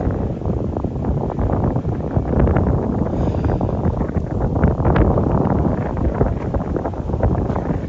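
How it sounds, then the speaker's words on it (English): Wind gusting across Central Park on New York's Upper West Side, buffeting the microphone in loud, continuous rumbling bursts that swell and ease without any talking. "can you guys feel the wind? I know you guys can hear it."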